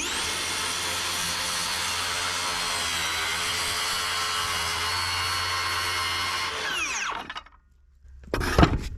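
A powerful battery-powered saw with a fresh blade cuts steadily through a multi-layer triple LVL beam, a loud continuous whine that slows and stops, followed by a brief clatter after a pause.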